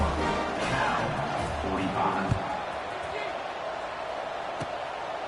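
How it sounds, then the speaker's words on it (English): At a Cal versus Arkansas college football game, the stadium crowd buzzes in a steady broad roar, with a few thumps and louder surges early on. "this crowd is buzzing after that last score"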